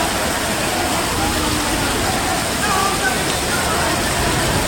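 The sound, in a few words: rainwater rushing through a drain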